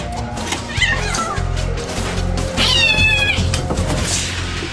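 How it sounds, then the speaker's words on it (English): Stressed, terrified domestic cats let out several wailing meows and caterwauls, some rising and falling in pitch, over a constant low rumble. "These cats are domesticated, but they're stressed and terrified."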